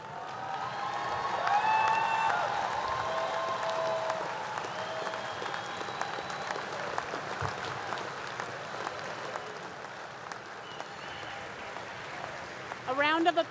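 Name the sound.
applause for new graduates at commencement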